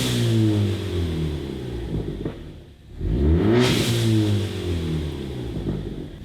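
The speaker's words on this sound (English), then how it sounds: "I'm gonna turn my car on, rev it to 4 grand a couple of times" Ford Focus ST engine with its balance shaft deleted, revved twice to about 4000 rpm from idle. Each rev rises in a sweeping tone and the engine briefly hangs near the peak before dropping back. The sound is close and clear with no talking.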